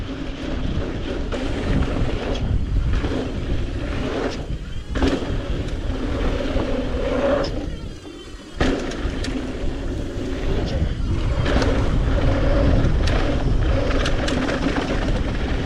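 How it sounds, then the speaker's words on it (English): Strong, steady headwind gusts roar and buffet across a microphone during big jumps, a continuous loud rush that briefly dips before surging again. "There's a pretty strong headwind."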